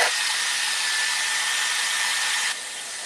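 A Dyson hair dryer runs on its highest setting, blowing hair in a steady, loud, close airflow roar that drops to a lower level near the end, with no talking.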